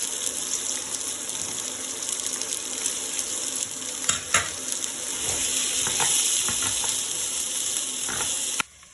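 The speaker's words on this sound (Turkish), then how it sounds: "Bu salçayla birlikte de biraz kavuracağım." Vegetables sauté with tomato paste, sizzling steadily in a hot pan, with occasional stirring scrapes and clinks over a constant frying hiss.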